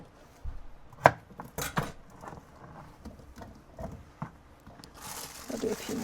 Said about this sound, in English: I'm just going to cut them into fairly big chunks.